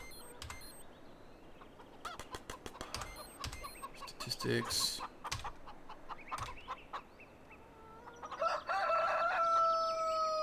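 Video game chickens in Farming Simulator 2013 cluck and crow in short bursts over a soft background hum, with a brief spoken word and clicking sounds mixed in.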